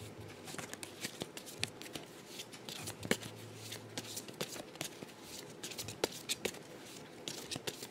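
Close, continuous papery shuffling of tarot cards, with rapid riffles and sharp snaps and flicks scattered throughout.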